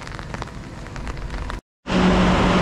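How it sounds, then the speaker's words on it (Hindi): Heavy roadside rain pours in a steady broadband wash on a pilgrimage walk in Maharashtra, loud and continuous, breaking briefly into silence before returning even louder. "ले भाई बारिश आ गई है बहुत जोर से फुल जोर से बारिश"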